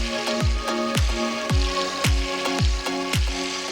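Chicken pieces fry in hot oil with a steady crackling sizzle, punctuated by a regular series of low thumping knocks about every half second, loud and close.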